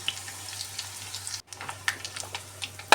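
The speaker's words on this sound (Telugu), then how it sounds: "ఇప్పుడు కొంచెము మంచిగా ఆయిల్లో ఫ్రై చేసుకోవాలి" Hot oil with a pinch of asafoetida sizzles in a pan, a soft steady hiss dotted with faint, scattered crackles and pops, close by and without any talking.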